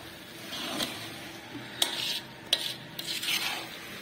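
Sesame seed laddu mixture with ghee is stirred in a pan, giving soft scraping and swishing strokes with a few brighter clinks of the spoon against the pan, quiet and close, with no speech.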